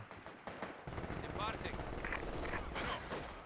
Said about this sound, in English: The MG's in the building, Ronnie.